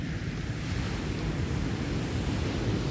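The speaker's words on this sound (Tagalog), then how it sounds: "malakas yung alon eh." Strong sea waves heard from a boat in open water off Dubai: a steady, loud broadband rush of surf and water churning with wind buffeting the microphone throughout, no talking.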